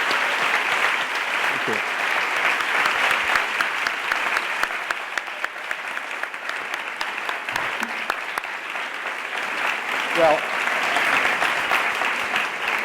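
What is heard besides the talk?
audience applause after a talk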